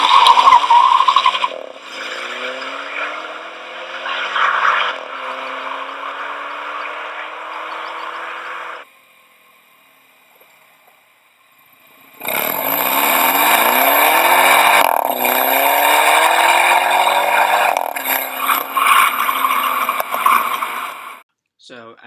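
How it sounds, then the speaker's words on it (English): A Mini Cooper S at speed on a performance drive, engine revving hard through gear changes with exhaust pops and rising and falling pitch sweeps, loud and close, broken by a quiet gap midway before the hard acceleration resumes. "The sound this car makes when shifting gears, it's like this amazing just pop in the exhaust."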